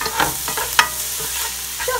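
Carrots and garlic stirred in a hot pan as they soften, a soft steady sizzle with a few close spoon scrapes and taps.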